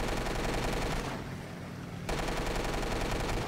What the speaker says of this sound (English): Shot at him till the gun barrels were about to overheat,